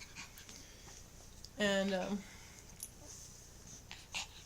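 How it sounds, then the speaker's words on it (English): A dog gives one short, wheezy whimper lasting about half a second. It is close and fairly clear against a quiet indoor background, while a person talks faintly around it. "this is my dog, by the way."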